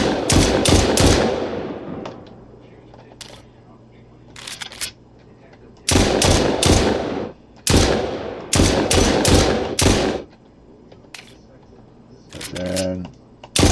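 Rapid bursts of gunfire from the zombie shooter game Zombie Bastards, several loud clustered volleys separated by quieter gaps, with a short tonal blip near the end.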